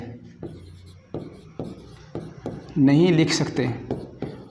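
Pen or chalk writing out a maths proof on real numbers, a series of short scratchy strokes repeating roughly every half second, with someone talking over part of it.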